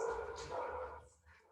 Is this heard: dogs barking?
yes